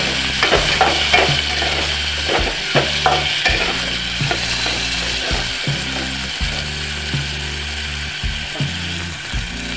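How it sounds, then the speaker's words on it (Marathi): Finely chopped onion and potatoes sizzle in a pan for a mixed vegetable pulao, a constant hiss under repeated rhythmic scraping and clicking of stirring, with a low steady hum beneath. "बारीक चिरलेला कांदा टाकत आहे आता। आणि लगेच आलू सुद्धा टाकणार आहे।"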